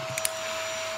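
A vacuum cleaner runs with a steady, close drone and a high whine throughout one second, with a couple of faint clicks near the start.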